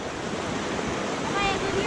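A small river rushes around large stones as people wade across it, giving a steady broadband water roar with a brief gusty rise near the end.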